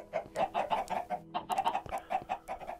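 Chickens in the Minecraft video game cluck in quick, repeated bursts, close and fairly loud, with a few short pauses between runs of clucks.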